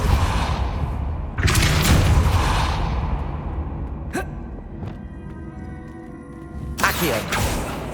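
A Depulso spell effect in Hogwarts Legacy gives loud, sharp magical blasts, one near the start and more later, with crackling bursts and metallic ringing tails over a dense, rumbling game soundscape.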